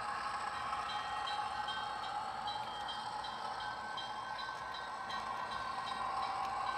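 A model train in Burlington Northern livery runs steadily through a model rail yard, giving a continuous soft rumble and rattle with faint metallic squeaks, moderately quiet and uninterrupted, with no voices.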